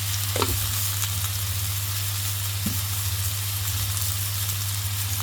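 Pieces tossed into a hot pan sizzle and fry as part of a home lunch, a loud continuous hiss close by, with a few soft clunks and a steady low hum beneath.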